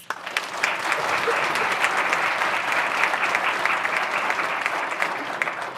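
A roomful of people at a school board meeting clapping together, an even wash of applause that stays strong from start to finish.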